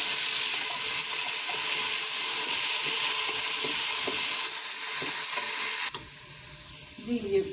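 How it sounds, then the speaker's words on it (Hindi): Sliced onions sizzle loudly in hot oil with roasted garam masala, a dense continuous frying hiss that cuts off abruptly near the end, leaving quieter clinks and a faint stir. "तो इसमें हम ये स्लाइस अनियन शामिल कर देंगे और इसको हम लाइट ब्राउन होने तक फ्राई करेंगे।"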